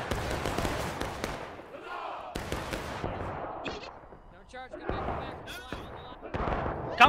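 Rifle and artillery fire in the Civil War game War of Rights, with irregular sharp cracks and booming volleys, some near and some distant, amid shouting players and battlefield noise.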